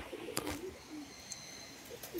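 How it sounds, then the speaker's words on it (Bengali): Several pigeons coo softly in the background of a quiet outdoor spot, with low rolling calls repeating at irregular intervals. A few brief sharper bird notes and faint clatter are mixed in. "প্রচুর পায়রা আছে, প্রচুর।"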